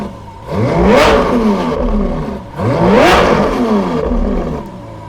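A Lamborghini Sian hybrid hypercar engine, 819 horsepower, revs twice in a row, each loud roaring rise climbing in pitch then falling back to a throaty idle, close by with no talking.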